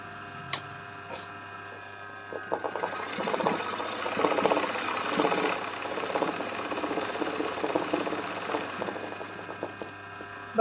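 An embroidery sewing machine stitches steadily, its needle running in a continuous mechanical clatter with a rhythmic pulse and a constant motor hum, close and fairly loud, with no one talking.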